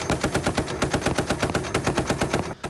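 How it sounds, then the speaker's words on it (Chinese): Ukrainian anti-aircraft cannon firing at Russian drones, a loud rapid burst of evenly spaced heavy shots roughly ten per second, sustained for over two seconds before cutting off abruptly. "乌军的防空机炮连发都没有打中"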